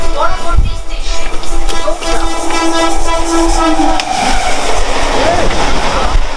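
Inside a moving passenger train bound for Bardhaman Junction, a loud steady rumble of wheels and carriage rattle fills the space, with a horn-like tone partway through and voices faintly under the noise.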